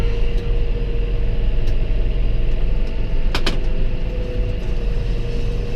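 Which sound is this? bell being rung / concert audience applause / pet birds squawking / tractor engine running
tractor engine running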